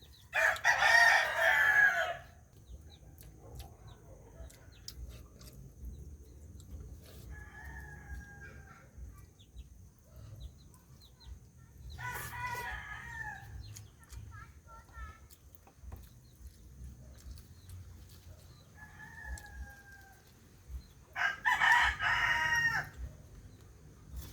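Roosters crow loudly several times, near and far, with softer clucking and calls from chickens in between.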